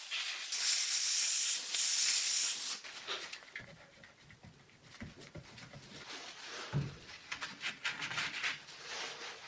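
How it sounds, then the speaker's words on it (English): Compressed air blown into a glued crack in an old 1920s wooden workbench, a loud steady hiss for nearly three seconds that then gives way to quieter scattered rustles and small knocks. "A little trick to get the glue deep into a crack you can't open is to blow in some compressed air."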